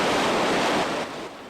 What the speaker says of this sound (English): Water gushing for about 30 minutes until crews finally got it turned off.